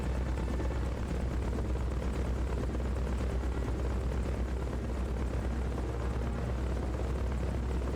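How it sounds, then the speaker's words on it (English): Helicopter in Metal Gear Solid: Peace Walker passing overhead, a steady loud rotor drone with low thumping that holds evenly throughout, no talk over it. "Helo's overhead, which is a bit spooky."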